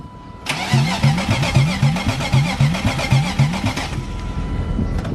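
A car engine cranks for its first start, the starter turning over in a fast, even rhythm for about three and a half seconds before cutting off abruptly, loud and close.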